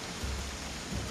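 Steady, dense rainfall hisses close by with a low rumbling undertone, continuous and fairly loud, no voices.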